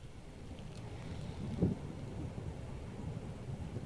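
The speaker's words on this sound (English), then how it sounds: "it was quite windy there." Strong outdoor wind roars steadily and buffets the microphone, with a brief low gust-like thump partway through and no talking.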